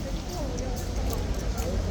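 Horses of the King's Guard Blues cavalry moving into a yard, their hoof clatter mixed into a steady, busy outdoor din, with voices talking over it throughout.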